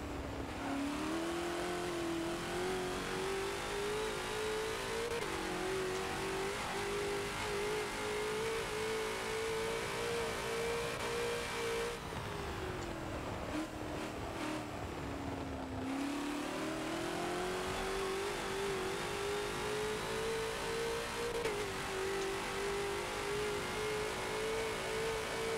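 A Ford GT40 race car engine in Forza laps the Nürburgring Nordschleife, revving loud and steady throughout, its pitch climbing, dropping briefly on a lift or shift around the middle, then rising again.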